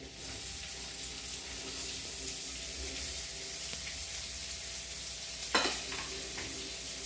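Onion sizzles as it goes into hot oil already fragrant with garlic and ginger, a steady broadband frying hiss with a brief stir or clatter near the end, no talking.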